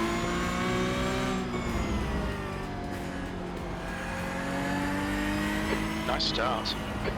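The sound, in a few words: race car engine and tires from the iRacing video game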